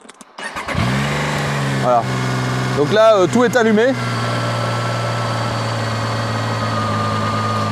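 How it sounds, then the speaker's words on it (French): A Zontes 703 F Trail three-cylinder adventure motorcycle is started up, cranking briefly and then settling into a steady, close idle with a few throttle blips, while someone talks over it. "Vas-y, tu mets en route la moto."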